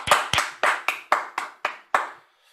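Eight sharp, close hand claps ring out in a slow, slightly uneven rhythm in a podcast studio, each snapping crisply and decaying quickly before a short silence.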